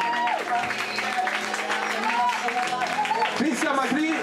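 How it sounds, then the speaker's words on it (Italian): An audience at a fashion show in Molinella applauds, a dense crowd of clapping hands that carries on steadily while a presenter talks over it through a microphone. "E quindi facciamo un applauso a Christian Macri."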